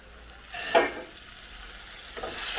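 Hot boiled water goes into a homemade iron bilimbi (irumban puli) pickle, a short close splashing pour followed by a soft hiss and faint stirring that builds again at the end.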